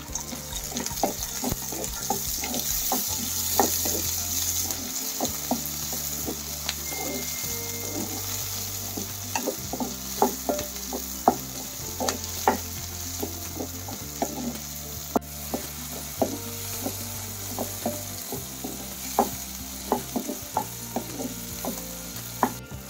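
Green peas fry with onions in a pan for a brinjal curry, giving a steady soft sizzle broken by frequent scraping stirs and small clicks, close and fairly quiet, with a low hum underneath and no talking.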